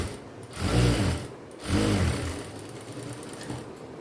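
A sewing machine top-stitches a folded hem on a silk skirt, running in two short whirring bursts close by, separated by brief pauses with light mechanical rattling.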